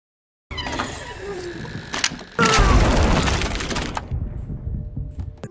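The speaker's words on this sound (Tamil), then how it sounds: "அந்த கிளாசெட்ல இருந்த ஒரு துப்பாக்கி வெடிச்சு அந்த லேடியோட மண்டை செதறுது." A gun hidden in a closet goes off in a film scene, a sudden loud blast with a crack and debris that rings out for a couple of seconds before settling into a lingering noisy tail.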